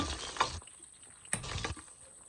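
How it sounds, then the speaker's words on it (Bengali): Hilsa fish frying in oil in a pan, a steady close sizzle broken by two sharp bursts of spattering or stirring. "ইলিশ মাছগুলো আমি ভেজে নিচ্ছি"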